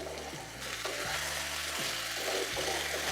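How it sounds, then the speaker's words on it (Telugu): Methi mutton curry sizzling in a pan as garam masala is stirred through, a continuous close frying hiss with repeated scraping strokes of the spoon, no talk. "ఈ గరం మసాలాను కూరంతా కలిసేలాగా కలుపుకోవాలండి."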